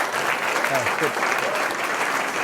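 Audience applause after a science lecture, a dense wash of clapping filling the whole moment at steady loudness, with a brief spoken word heard over it.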